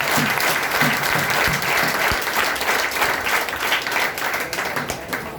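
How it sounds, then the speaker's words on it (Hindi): A seminar audience in Bihar bursts into loud, sustained applause, dense clapping from many people filling the room evenly for several seconds, with faint background voices. "आप लोग तालियां के बाद जोरदार बजाइए।"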